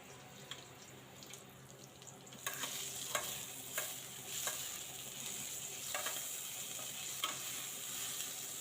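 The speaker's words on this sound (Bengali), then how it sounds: "এখন মিষ্টি লাউ ভাজি করব।" Sweet bottle gourd frying in a pan, a quiet start giving way to a steady close sizzle with intermittent stirring clatters and scrapes.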